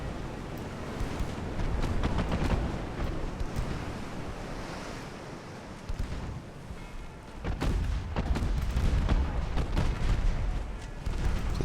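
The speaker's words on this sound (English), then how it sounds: "Get a full broadside going here." Naval broadside gunfire in Ultimate Admiral: Dreadnoughts, a dense rolling barrage of heavy booms over a constant sea-surf and wind wash, briefly easing midway before a second loud burst of firing swells through the end.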